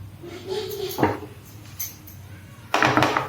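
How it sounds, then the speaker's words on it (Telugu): A frying pan set down on a kitchen stove burner, a sharp metallic clatter near the middle followed by a heavier clank of cookware near the end, with faint kitchen background. "ఫ్రై ప్యాన్ పెడుతున్నాను."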